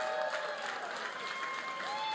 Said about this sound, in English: A big round of applause for everyone who donated tonight.